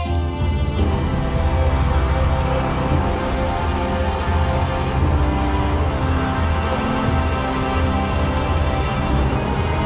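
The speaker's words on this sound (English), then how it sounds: "Come on, stop raining!" Steady, heavy rain pours continuously in an animated children's story, a dense hiss of falling drops with a sustained tonal backdrop underneath and no pauses.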